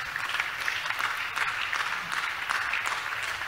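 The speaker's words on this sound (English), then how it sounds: "Clap for God" A church congregation clapping together, a dense, fairly loud burst of many hands pulsing in rough waves for a few seconds.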